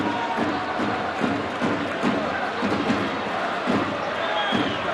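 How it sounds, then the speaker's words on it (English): A stadium crowd at a FIFA Under-20 World Cup match between England and South Korea, held in South Korea, sings and chants steadily throughout as a dense, continuous roar with rhythmic swells, heard from a distance. "The crowd is still singing away."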